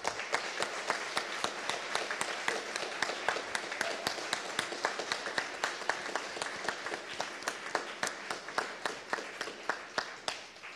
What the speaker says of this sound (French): Ces gens-là méritent une très bonne main d'applaudissements.